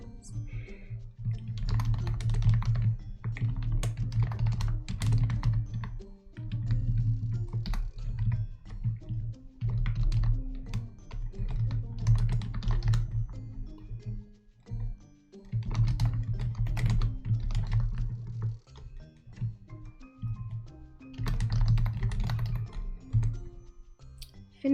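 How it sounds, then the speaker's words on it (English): Computer keyboard typing during a live stream, rapid key clicks in bursts with brief pauses throughout, close and steady, with a low hum underneath. "Keyboard ASMR."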